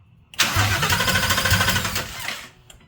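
A Factory Five Gen 3 Coupe kit car engine cranks and fires up close and loud, running roughly for about two seconds before cutting off, with no talking over it.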